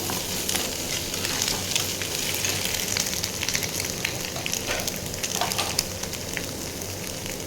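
Egg and onion frying together in a pan, giving a steady, dense sizzle and crackle that carries evenly from start to finish with no voices.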